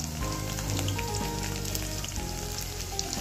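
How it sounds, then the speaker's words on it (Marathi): Green chillies frying in hot oil, a dense crackling sizzle that continues steadily throughout. "आता हिरव्या मिरच्या छान तळून झाल्या आहेत"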